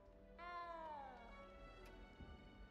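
A single drawn-out cat meow from the video game Hogwarts Legacy, rising then gliding down over about a second, close and clear, followed by a faint low rumble of background.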